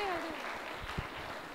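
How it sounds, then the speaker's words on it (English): Audience clapping during a certificate handout at a coding hackathon evening session, a moderate steady patter of hands with voices talking over it. "You have to keep on clapping."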